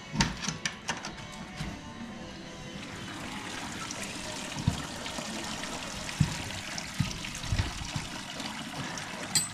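Water pours and trickles steadily over brewing grains as they are rinsed during a brew day at a brewery in Bahia Asuncion, Mexico, a continuous splashing stream with a few clunks, no talk.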